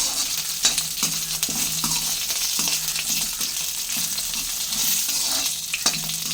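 Curry leaves and dried red chillies frying in oil for gongura roti pachadi, a steady close sizzle with periodic stirring scrapes of a spoon against the pan.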